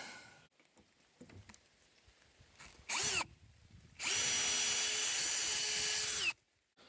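Power drill with an auger bit boring starter holes in plastic for a homemade geothermal evaporative cooler: a brief whine near the middle, then a louder sustained whirring run of about two seconds that cuts off abruptly.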